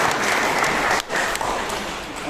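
A seated crowd at a municipal council program in Kolar claps steadily, a dense even patter with a short dip midway before continuing.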